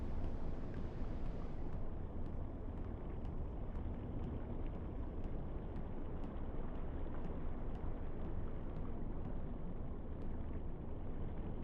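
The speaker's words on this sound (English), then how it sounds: "Okay, so we only hear water. We do not hear any noise of the engines here" Continuous low rushing water noise around a submerged Type VIIB U-boat in the UBOAT game, steady and even with no engine sound, a faint periodic ticking above.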